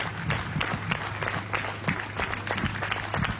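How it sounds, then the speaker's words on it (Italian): Long, steady applause from mourners at the funeral of Ennio Doris, a dense patter of many hands clapping with scattered louder claps and a low hum underneath, no voices standing out. "ecco il lungo applauso"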